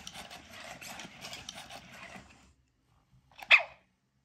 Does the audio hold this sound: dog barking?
yes